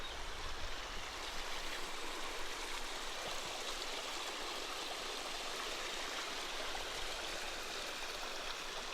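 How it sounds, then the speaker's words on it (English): A small stream flowing beside an old mill property in Umbria, Italy, a steady hissing rush of water with faint gurgles, constant and unbroken throughout with no voices. "The stream doesn't dry up. There's a little trickle."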